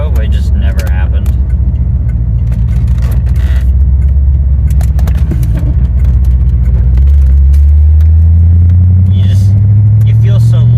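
A Chevrolet Corvette C4 being driven, its loud low engine drone and road rumble steady inside the cabin, the pitch rising toward the end, with a person talking over it.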